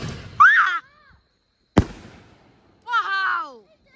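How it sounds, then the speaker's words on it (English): Fireworks during a Fourth of July outing: one sharp bang midway, with short bursts of voices before and after it. "firework off"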